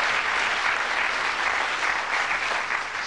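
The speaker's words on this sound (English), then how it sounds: "We'd like you to give a nice warm round of applause to Jock as he throws for charity tonight." Warm studio audience applause on a darts game show greets a world champion darts player, a continuous, even clatter of many hands clapping throughout.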